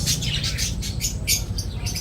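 Birds call and chirp near an orchid garden, a busy run of repeated high tweets in quick bursts over a low background hum.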